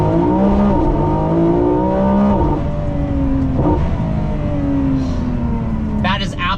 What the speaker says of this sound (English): V12 sounds so raw.